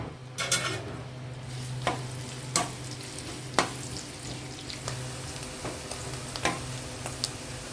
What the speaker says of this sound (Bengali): প্রথমে আমি প্যানে তেল দিয়ে নিব।